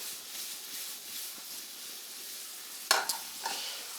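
Onion and shallot sizzle in olive oil in a pan, a soft, even frying hiss close by, broken near the end by a couple of sharp stirring scrapes.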